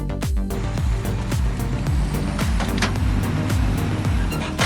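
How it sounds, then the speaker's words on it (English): A loaded timber truck hauling an extra heavy log crate over a bumpy road rumbles loudly and continuously, with repeated heavy thumps and jolts running through the low engine noise. "The man strained as he drove the loaded truck, hauling an extra heavy log crate behind him"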